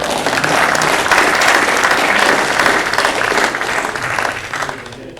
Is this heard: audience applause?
yes